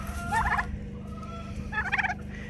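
A blue slate turkey gobbles twice, rapid rattling bursts spaced about a second and a half apart, over a low steady background hum.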